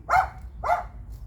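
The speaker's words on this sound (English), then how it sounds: "We can't do our show because of these hunting dogs." Hunting dogs bark outdoors in two sharp, moderately distant barks about half a second apart, over a low rumbling background.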